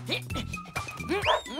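A cartoonish, voice-made dog barks and yips in a few quick, pitch-bending bursts, close and lively.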